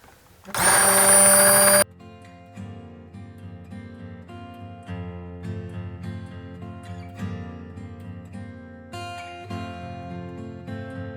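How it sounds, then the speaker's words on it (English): An immersion blender whirs loudly for about a second while mixing mayonnaise from egg yolk, then stops, and a softer layered tonal sound carries on through the rest of the clip. "we're gonna put the immersion blender in"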